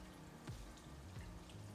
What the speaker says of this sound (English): You'll take your broth and go ahead and pour it over